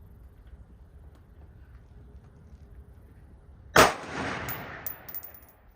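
A single sharp rifle shot from a rifle fitted with a Riflespeed adjustable gas system set to 1 cracks after near silence, followed by a brief decaying ring and a faint metallic clatter.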